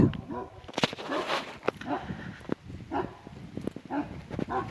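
A Kangal shepherd dog barks in short, scattered bursts at a farm, mixed with someone talking nearby throughout.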